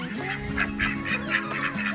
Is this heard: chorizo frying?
no